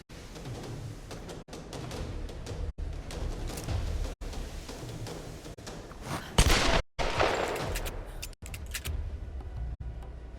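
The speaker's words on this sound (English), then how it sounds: "Sounds like they got guns." Enemies fire guns in Tomb Raider (2013), a string of sharp shots and volleys spread through the clip over a busy rumbling background, with one louder burst near the middle.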